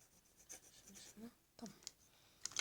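Faint scratchy strokes of a pencil on paper, a few short light scrapes separated by pauses, quiet and close.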